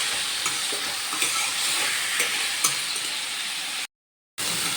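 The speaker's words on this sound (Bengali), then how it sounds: "এঁচড়গুলো তেলের মধ্যে দিয়ে ভেজে নেব" Boiled green jackfruit pieces sizzle and crackle steadily in hot oil in a pan, with occasional stirring scrapes and a brief gap near the end.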